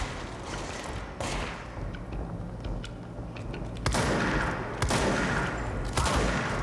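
Gunfire in the video game Control, with bursts of shots and sharp cracks over a dense background of game noise, loud and fairly close, with no talking.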